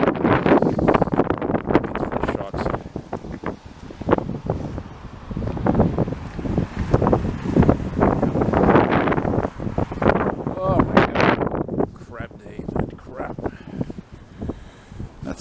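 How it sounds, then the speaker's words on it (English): Heavy wind buffets the microphone in loud, gusty bursts that nearly swamp someone talking underneath, outdoors in Montreal's Hochelaga borough in December. "I don't know if you hear what I say, because it's windy."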